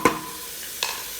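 Onions fry in a pan for chicken biriyani with a soft steady sizzle. Two short scraping strokes of a spoon stir them, one at the start and one near the end, close by and without talk.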